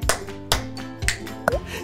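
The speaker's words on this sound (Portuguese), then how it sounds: "Bate duas palmas e um estalo." Sharp, close hand claps and finger snaps in a slow, evenly spaced rhythm, four crisp hits over about two seconds over a faint background of music.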